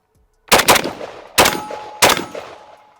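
Three sharp rifle shots crack out close and loud, the first a quick double followed by two evenly spaced single shots, each trailing off into a ringing decay.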